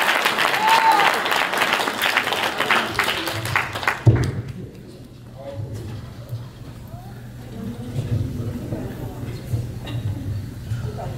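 Audience at a 2022 talent show applauding loudly for about four seconds, the clapping then dropping to a murmuring crowd with scattered voices.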